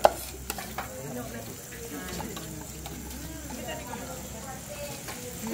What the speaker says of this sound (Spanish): Lo único que necesitamos es medio, mire, un fuego bajo, porque no necesitamos que la cebolla se queme, sino que agarre un color